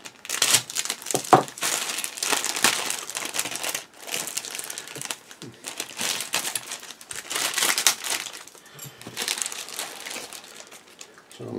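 Plastic sprues and bags from a Meng 1/35 Mk.A Whippet model kit crinkle and rustle in close, irregular bursts as parts are lifted from the box, with handling clatter between louder crumpling passages.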